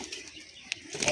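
Pigeons flap their wings in brief soft flurries, faint and fairly close, with a sharper flutter near the end and no voices.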